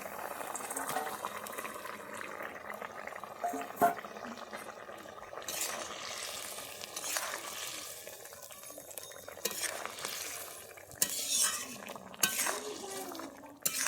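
Fried fish roe stirred into boiled potatoes simmering in a pan, giving quiet bubbling with intermittent scraping and clinking stirs, fairly faint and uneven.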